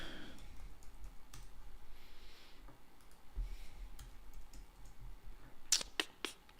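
Keys on a computer keyboard are typed in a quiet room, a few soft scattered clicks early on, then a quick burst of sharper keystrokes near the end.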